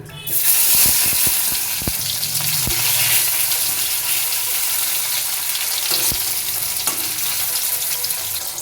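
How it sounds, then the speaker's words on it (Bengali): Sliced tomatoes drop into hot oil seasoned with bay leaf, dried red chilli, whole cumin, cardamom and clove for a chickpea dal with coconut, setting off a loud, steady sizzle with a few sharp clatters and stirring knocks and no voices. "দিয়ে দিচ্ছি স্লাইস করে কেটে রাখা টমেটো"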